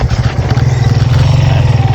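A motorcycle runs on a rural road in San Francisco, Quezon Province, its close, loud engine chugging with a steady pulsing rumble throughout.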